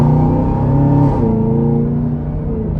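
A 2024 Chevy Camaro ZL1 convertible in track mode accelerates hard, its V8 engine a loud, close, rising roar with a gear-shift break midway, then a continued deep rumbling pull.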